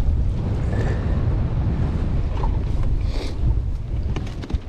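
Gusting wind buffets the microphone on a fishing boat out at sea, with choppy water slapping and rushing against the hull in a constant, loud, rough wash.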